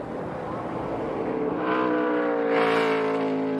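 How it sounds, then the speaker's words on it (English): A NASCAR Craftsman Truck Series race truck engine roaring at a road-course race, rising in pitch and loudness as it accelerates, with a brief engine-noise peak late on. "Sound of that truck just really makes you want to be out there as a race car driver"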